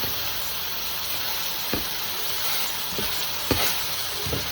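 Food sizzling and frying in a pan with avocado oil, a steady close hiss broken by a few soft clinks and stirring knocks.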